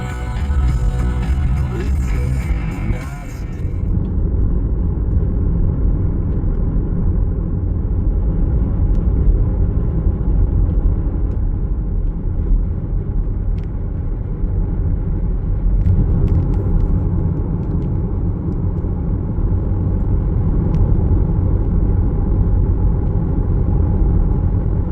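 A car drives along the road toward Tijeras Canyon, a loud, steady interior rumble of engine and tire noise that continues unbroken throughout.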